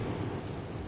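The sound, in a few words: rain and thunder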